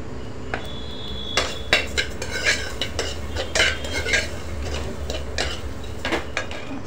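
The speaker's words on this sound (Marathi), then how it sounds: "हे बघा असं छान परतून घेणार आहोत।" Soaked wheat kheer is stirred and sautéed in a pan, with repeated metal spoon scrapes and clinks against the pan over a soft low background, close and rhythmic.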